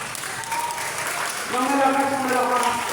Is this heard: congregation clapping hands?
yes